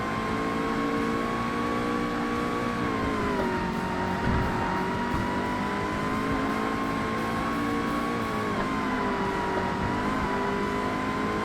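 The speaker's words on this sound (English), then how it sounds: "First time driving an LMP class car in this game" LMP class race car driven in the 2005 Xbox game Forza Motorsport, a steady close engine drone with shifting pitch as revs rise and fall, continuous and alone without talk.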